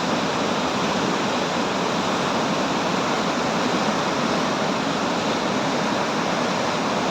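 Dhuandhar waterfall on the Narmada river roars as a loud, dense, unbroken rush of falling water, steady across the whole stretch with no voices over it.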